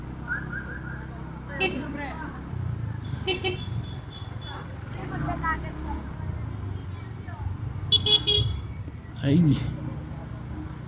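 Road traffic in Muntinlupa City, with cars and tricycles crawling along a congested street and short horn toots breaking through the steady rumble, while people talk throughout.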